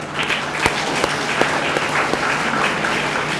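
An audience at a career guidance program applauds, a moderate, fairly sparse clapping with a few distinct sharp claps standing out from the steady patter, no speech over it.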